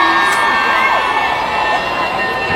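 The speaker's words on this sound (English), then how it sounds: "I see some girls screaming twice for both questions" Women in a concert crowd scream loudly and continuously, a dense high-pitched wall of cheering and whooping that carries close and strong from start to end.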